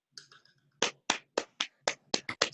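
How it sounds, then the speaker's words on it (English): Scattered claps from a few people in an online Toastmasters meeting come through as a sparse, uneven round of applause, close and somewhat faint, with no talking. "let's give him a round of applause"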